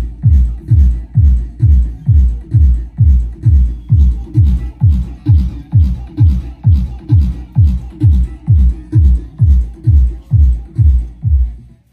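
Sub bass played through a PX1800 four-channel power amplifier, a loud, steady pulse of deep booming thumps, about two per second, repeating evenly with nothing above the low end.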